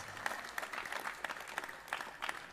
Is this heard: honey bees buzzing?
no